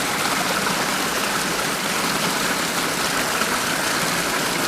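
A steady, full rush of irrigation water pours over a wooden gauge board in a field channel, loud and continuous throughout, with no voices over it.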